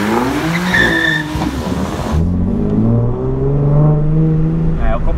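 Drift car, BMW M3 or Nissan 370Z, skidding with loud tire squeal and engine revving as the car oversteers and nearly spins, a sharp screech fading into a droning engine pull.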